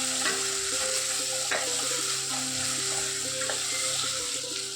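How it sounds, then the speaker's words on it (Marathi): Chopped tomatoes and finely diced carrot frying in a pot for a one-pot paneer pulao, with a steady close sizzle and repeated scraping stirs throughout, no talking. "टोमॅटोही छान भाजायचं आणि यामध्ये एक बारीक चिरलेलं गाजरही घालायचं"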